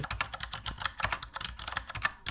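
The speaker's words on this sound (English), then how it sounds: "That's typing." Rapid computer keyboard typing, a dense run of crisp clicking keystrokes close up, used as a sound effect in a podcast, with no voices.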